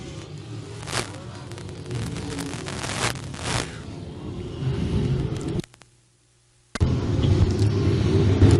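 Wingless sprint cars roar around UI-35 Speedway as a constant distant engine rumble with crowd-like noise. It cuts to near silence for about a second, then resumes louder.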